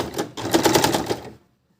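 A sewing machine stitching the edge of organza fabric, one short rapid rattling burst of about a second that then stops into silence.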